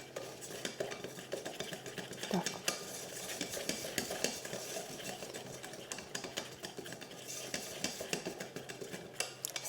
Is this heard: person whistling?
no